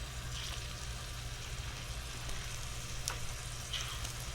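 Pineapple rings sizzle in a hot pan of butter and brown sugar with the heat switched off, a quiet, even crackle with a few sharper pops, heard alone.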